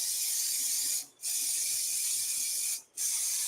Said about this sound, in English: First start with the cooking spray.